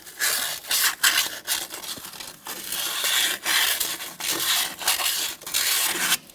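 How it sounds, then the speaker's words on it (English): Emery cloth rubbing rust off a steel strut part on a 2005-2010 Chrysler 300, heard as close, rapid back-and-forth scraping strokes in irregular bursts. "I'm just using some emery cloth and getting the rust"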